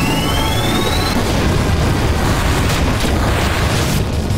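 Final Fantasy VIII's Fire Breath attack roars as a loud, continuous fiery blast, a dense sustained whoosh and rumble with crackling bursts, preceded by a brief rising tone.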